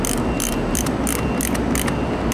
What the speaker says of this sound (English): I like to go ahead and tighten them down with a ratchet, with a wrench.